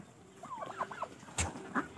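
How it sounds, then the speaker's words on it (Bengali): A turkey in a poultry yard gobbles in a brief warbling burst, followed by a few sharp clucks and calls from nearby fowl, moderately close with a quiet background. "এটা আমার টার্কি রয়েছে"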